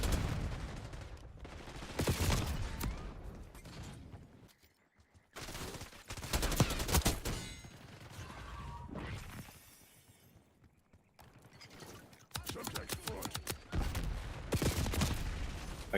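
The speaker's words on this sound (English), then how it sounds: "Okay, time to shoot our teammates." Bursts of automatic gunfire and explosive cracks in Call of Duty Black Ops 6, loud and close, with rapid volleys separated by short lulls over about sixteen seconds.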